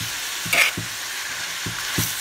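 Bell peppers and mixed vegetables sizzle steadily in a hot pan for Haitian macaroni, a constant frying hiss broken by a few soft stirring scrapes and clacks, close and fairly loud, with no voices.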